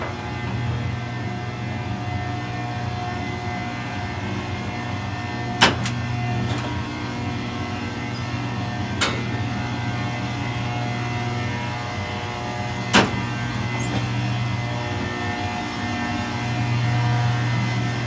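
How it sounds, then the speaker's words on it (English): A loud, steady motor hum from an antique 1911 Otis elevator in Lincoln, Nebraska, drones continuously near the cab, with a few sharp clicks or knocks sounding over it. "that's a loud motor"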